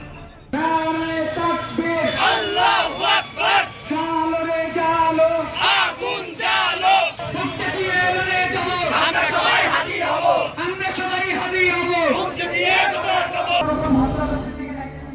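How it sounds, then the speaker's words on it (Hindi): An angry crowd roars and chants outside the Indian Assistant High Commission in Rajshahi, Bangladesh, where protesters tried to break through barricades. The dense uproar of many shouting voices runs loud and continuous throughout, with rhythmic chanted cries swelling and falling. "दूतावास के बाहर जमकर हंगामा हो रहा है।"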